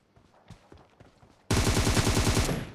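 Gunfire from an M762 rifle in the video game PUBG. A few soft, scattered steps and thuds come first, then a loud, rapid automatic burst starts abruptly and rattles on close up to the end.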